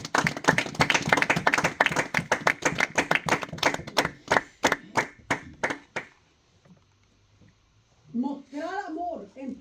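Clapping in a church during a bible study, a run of sharp hand claps for about six seconds that thin out and stop, then a pause before a voice speaks near the end.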